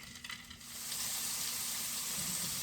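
Scallops hit hot oil in a pan on a stove and set up a steady, fairly quiet sizzle that swells after a moment and holds evenly.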